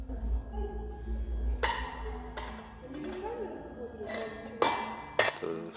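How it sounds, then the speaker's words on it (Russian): Metal spoons clink and clatter in several sharp bursts in a museum installation where they move by themselves, over a quiet room with a murmur of people talking in the background. "Вы подходите, и ложки начинают сами двигаться."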